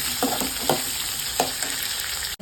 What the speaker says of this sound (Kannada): ಈಗ ಈರುಳ್ಳಿ, ಶುಂಠಿ, ಬೆಳ್ಳುಳ್ಳಿ ಹಾಕಿ ಚೆನ್ನಾಗಿ ಬಾಡಿಸ್ಕೊಳ್ಳೋಣ.